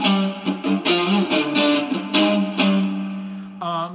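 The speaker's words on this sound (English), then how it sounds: "If you crank up your distortion, you can really get those two notes" A cigar box guitar plays a string of heavily distorted notes, gritty and sustained, strummed in a loose rhythm with a final bright chord.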